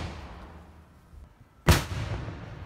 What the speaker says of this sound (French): Le coup de canon de midi résonne chaque jour dans la capitale azuréenne.